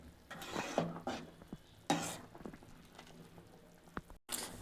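Tomato sambar stirred in a pot after sambar powder goes in, with a few close, soft scraping and clinking strokes over a faint simmer, no talk.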